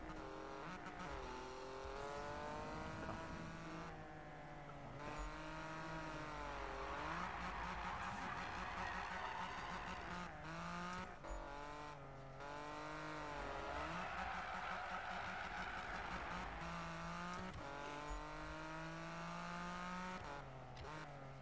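Car drifting in Need For Speed 2015, engine revving loud and steady with rising and falling pitch, tires squealing through slides, continuous for the whole stretch.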